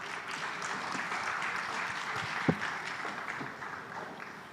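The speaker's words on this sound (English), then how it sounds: "a round of applause for our distinguished panelists" Audience applause for panelists at an energy conference session, a soft, fairly distant clatter of clapping held evenly throughout, with one brief sharper knock partway through.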